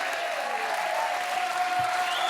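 A studio audience applauds a singer on a French television talk show, steady dense clapping throughout, fairly loud and continuous, with a faint tone running beneath it.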